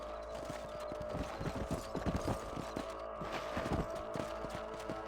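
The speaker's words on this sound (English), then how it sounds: "On va remonter sur le cheval." Horse hooves clip-clop in a steady walking rhythm in the western game Red Dead Redemption, a series of close, distinct thuds over a low constant background hum, with no talk.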